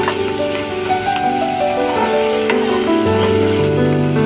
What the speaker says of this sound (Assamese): মাছকেইটা অলপ ভালদৰে ভাজি ল'ব।